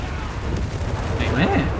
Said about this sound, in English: Oh no, they actually had an anti-aircraft gun that shot it down